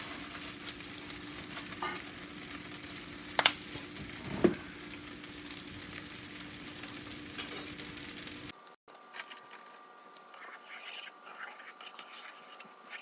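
Eggs seasoned with a garlic herb mixture, black pepper and red pepper flakes sizzle in a pan, a soft continuous frying hiss with a couple of sharp scrapes before the sound cuts off.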